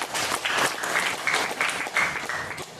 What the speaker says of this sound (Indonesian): Tepuk tangan buat Bali dulu.